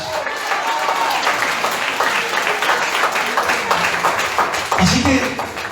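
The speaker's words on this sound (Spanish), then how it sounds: "Un aplauso al Señor esta tarde." A church congregation claps enthusiastically during an evening service, many hands beating in a lively, crackling mass with crowd noise mixed in and a brief lower swell near the end.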